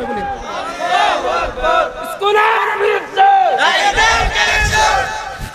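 A large crowd at a religious sermon roars back in answer to a Nara-e-Takbir call, several loud unison shouts rising and falling in quick chant-like waves.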